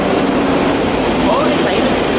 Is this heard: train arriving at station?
yes